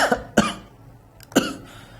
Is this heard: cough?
yes